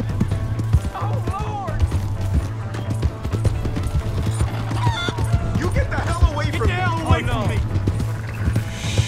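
Horse hooves clop in steady rhythm in the Red Dead Redemption 2 video game, mixed with whinnies and chatter as someone talks over the action. Dog-like barks and other game sounds layer underneath.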